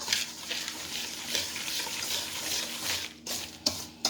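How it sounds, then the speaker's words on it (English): Brown sugar is stirred with a whisk in a bowl, giving a faint, steady scraping and swishing with a few sharper taps near the end. "And mix that around."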